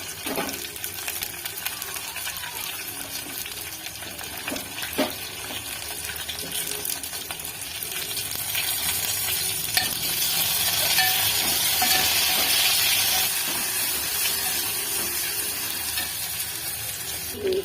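Mint leaves frying with tripe (boti) and golden fried onions in a pan: a dense, loud, continuous sizzle with a hiss that swells midway, plus occasional faint utensil taps.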